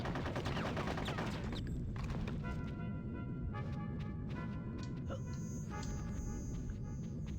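Rapid bursts of video-game gunfire from Conker's Bad Fur Day crackle over a low rumble, a dense fusillade running throughout, with no talk.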